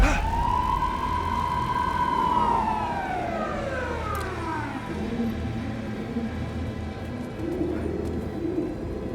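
A police car siren in the video game Alan Wake 2 sounds a single long wail that rises and then slowly falls away over a few seconds, followed by quiet ambient noise.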